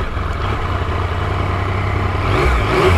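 A Yamaha MT-09 motorcycle engine runs close by in neutral, a steady loud throb that swells slightly toward the end as it revs, with no voices.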